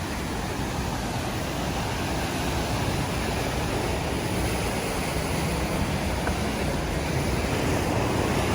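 Steady rushing water from the cascades of the River Doe in the Yorkshire Dales, a broad continuous roar of flowing river close by, constant throughout with no voices.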